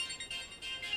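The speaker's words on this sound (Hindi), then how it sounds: "तुम्हारा फोन बज रहा है।" A mobile phone ringtone chiming faintly in a bank office, a repeating high electronic melody pulsing in short phrases with no talk over it.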